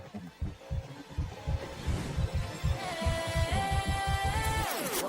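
Throbbing, heartbeat-like bass pulses drive a song, steady low thumps repeating under a sustained synth tone that climbs and then slides away near the end.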